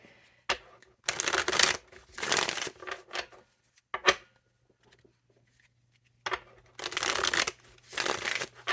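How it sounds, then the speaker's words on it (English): Tarot cards riffled and shuffled in several quick bursts, close up and crisp, separated by short pauses and faint handling noises. "I'm just going to shuffle and just pull some life areas."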